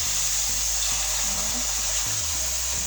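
Hot water pouring steadily from a kettle to rinse a plate in a home kitchen while curry chicken is cooked, a continuous close hiss and splash with no speech.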